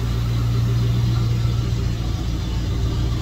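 A Dodge SRT8 V8 engine idling steadily nearby, a loud, even low rumble with no revving, continuous for the whole stretch.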